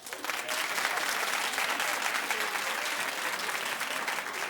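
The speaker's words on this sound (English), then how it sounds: "Clap if you have children but wouldn't dare violate their privacy." A television talk show studio audience claps steadily and fairly loudly for a few seconds, a dense wash of applause with no voices standing out.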